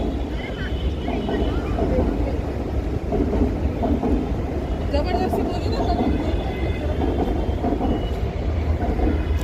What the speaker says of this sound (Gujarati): જો આખી ટ્રેન જાય મુંબઈની જુઓ